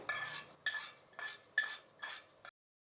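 Curry leaves and dry red chillies in hot oil being added to rasam, with metal spoon scrapes and stirring clinks in five distinct bursts, close and fairly quiet, then cutting to silence.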